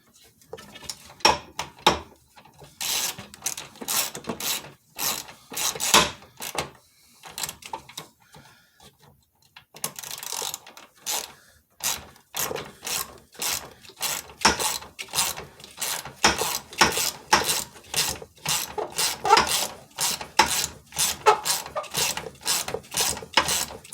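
A ratchet clicks rapidly and steadily while loosening the fine-thread screws holding a Jeep TJ front grill, close and crisp, with a short pause partway through and no talk.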